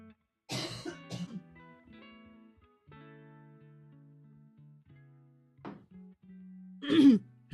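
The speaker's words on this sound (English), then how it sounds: "The attack of the cough is back." A person coughs and clears their throat in a couple of short rough bursts at the start and again near the end, separated by quiet stretches.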